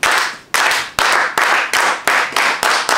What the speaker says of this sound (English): We give it a nice slow clap.